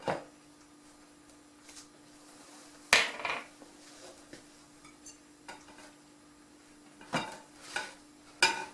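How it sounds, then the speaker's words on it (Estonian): Baking powder being stirred into currant cake batter in a bowl, giving soft scraping strokes with a few sharper clinks of the utensil against the bowl, close and fairly quiet, with no talking. "siin ma nüüd segan siia sisse selle küpsetuspulbri"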